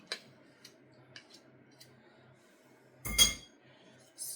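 A spoon stirs melted butter into mashed bananas in a bowl, giving sparse light clinks against the side, then one louder scraping clatter and a short final tap, close and fairly quiet.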